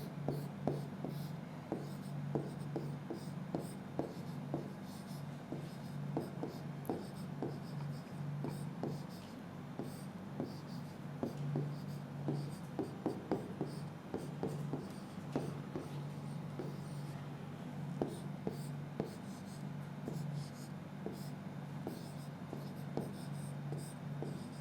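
Chalk or marker scratching out equations on a board, a steady run of quick faint strokes and taps that continues for a long stretch over a constant low hum.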